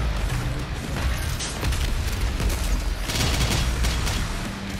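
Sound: miniature nuclear bomb weapon exploding, from the video game Doom: The Dark Ages

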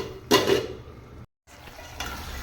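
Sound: stirring tamarind brinjal curry in a pan

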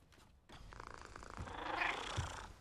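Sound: cats meowing from the plates in a Harry Potter movie

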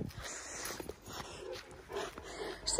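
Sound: dog whimpering

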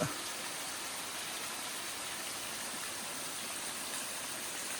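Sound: small waterfall flowing down from above

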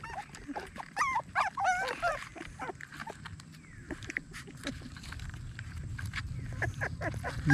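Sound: wild dogs whimpering and yipping

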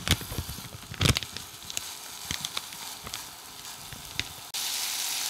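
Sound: ground sausage browning in a heated pan

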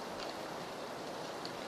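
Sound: rain in a video game

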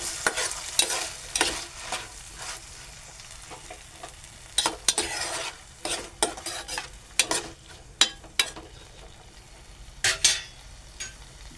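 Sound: sautéing and stirring vegetables in a pan

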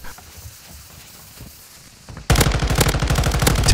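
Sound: M13C rifle gunfire in a video game

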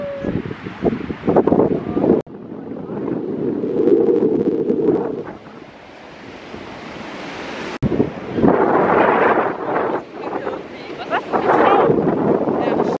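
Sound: wind blowing at the seaside

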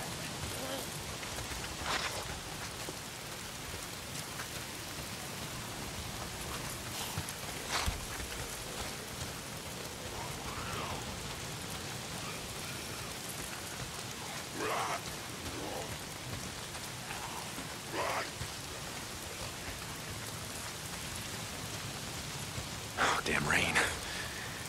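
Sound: rain falling in the video game Days Gone

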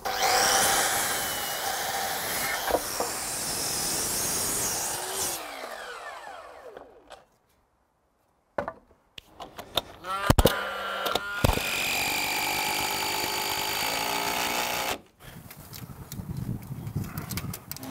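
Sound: chop saw cutting wood for a roof

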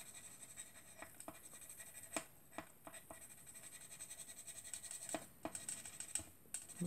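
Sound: coloring a squirrel with colored pencils on paper

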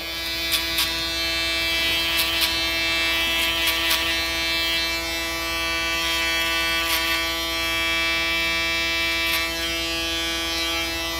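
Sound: electric shaver used in a barber haircut

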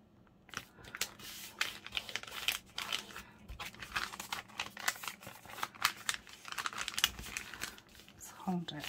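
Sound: paper envelope being folded over

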